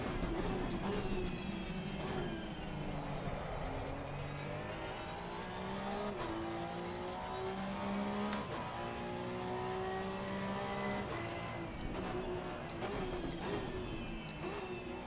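Porsche race car in Assetto Corsa Competizione, its engine droning loud and steady throughout with rising and falling pitch as it accelerates and shifts, close and continuous with no voices.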